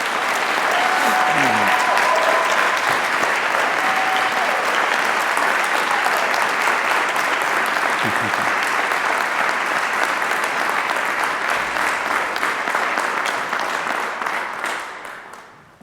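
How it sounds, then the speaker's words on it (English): Sustained applause from a commencement audience for Warner School doctoral graduates, a dense, loud wash of many hands that holds steady with faint voices briefly over it, then fades out at the end. "Will you please join me in applause for the Warner School's Doctor of Philosophy graduates?"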